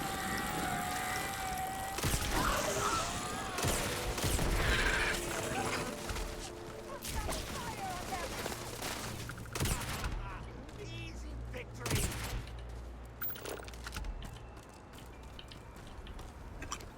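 An EMP weapon in Starfield fires in a dense, crackling volley of many rapid shots, loudest early on, then fading into scattered pops over a faint low hum.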